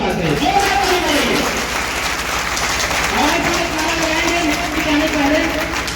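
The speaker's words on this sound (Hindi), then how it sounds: "जोरदार ताली बजाइए।" Crowd applause at a political rally in Mau, loud clapping running throughout, with shouting and a voice calling out over the noise.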